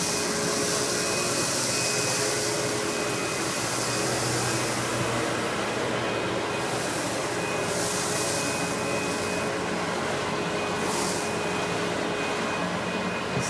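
An Amway CMS 1000 Clear Trak cyclonic vacuum cleaner runs continuously with a loud, steady, close roaring whine, its airflow hiss shifting slightly in pitch now and then.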